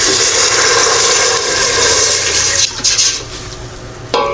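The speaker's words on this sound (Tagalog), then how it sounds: "Buhos ko na po itong 2 cups na tubig." Two cups of water poured into a hot cooking pan while making tilapia stew, a loud steady rushing pour that tapers off, with a clatter near the end.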